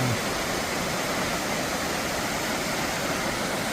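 A waterfall in a snowy mountain forest roars as a constant broadband rush of falling water, steady and fairly close, with no voices.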